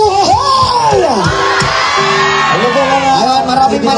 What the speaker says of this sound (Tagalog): Isang hiyawan uhoy!